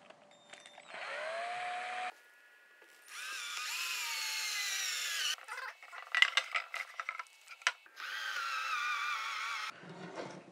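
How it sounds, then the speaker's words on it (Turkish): An electric drill fitted with a 6 mm bit bores holes for a malt mill, running in several steady whining bursts with pitch shifts as it bites, separated by brief pauses and scattered clicks. "Altı milimlik delikler için matkabımıza 6 milimlik uç takıyoruz."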